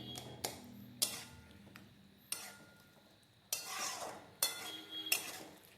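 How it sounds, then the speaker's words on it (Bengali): Fried potato and eggplant are stirred into a fish curry with a spoon, giving a handful of sharp scrapes and clacks against the pot separated by quieter pauses, faint and close. "এটার সাথে এবার ভালো করে মিশিয়ে নিচ্ছি"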